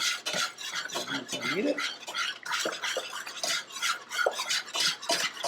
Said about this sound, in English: I don't have to stir as vigorously now because it's not going to lump now.